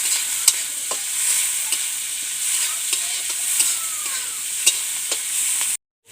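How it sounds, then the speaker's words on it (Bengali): Chopped onions with a little salt sizzling and frying in a pan, a steady close hiss broken by faint stirring clicks, ending abruptly. "আমি পেঁয়াজ কুচিগুলো দিয়ে দেবো। এখন আমি হালকা নুন দেবো যাতে পেঁয়াজটা তাড়াতাড়ি নরম হয়ে যায়।"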